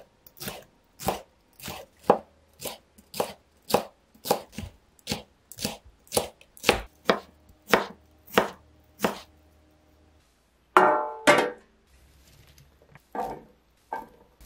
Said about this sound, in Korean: 길이 방향으로 썰어주시고요.